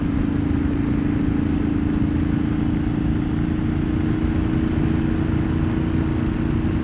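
Steady, loud low engine drone of a motorcycle cruising at highway speed with a dB killer baffle fitted in the exhaust, blended with wind rush and continuous without a break.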